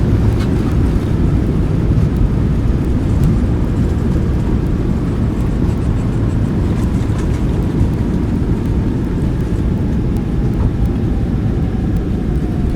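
Jet2 737-800 thrust reversers roaring during landing rollout at Cologne in Microsoft Flight Simulator 2020, a loud, steady broadband engine rush that holds throughout with no talk.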